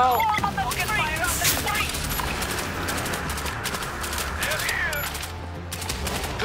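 An auto turret in World War Z horde mode fires continuously, a dense rattle of rapid shots running through the whole clip with sharp impact clicks over a low rumbling game din.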